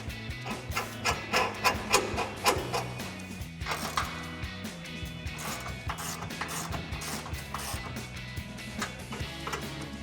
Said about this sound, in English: grab our ratchet and 21mm socket and tighten them down